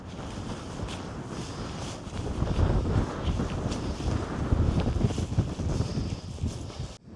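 Strong wind roars across the microphone in continuous rumbling gusts, swelling louder midway before cutting off abruptly.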